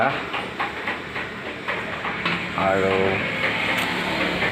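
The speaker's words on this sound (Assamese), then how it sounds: "চাহ উতলিছে" A pot of milk tea bubbles and hisses at a steady simmer in a shop, with people talking close by over the boiling.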